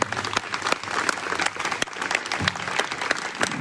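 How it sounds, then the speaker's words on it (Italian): Steady applause from a crowd at an election campaign closing event fills the whole stretch, dense clapping with no pauses and no speech over it. "un applauso"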